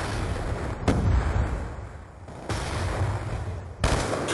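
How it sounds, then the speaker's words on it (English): A grenade goes off in a first-person shooter game, with a loud close blast followed by rumbling booms and a second sharp burst near the end, amid ongoing combat noise. "Throwing grenade."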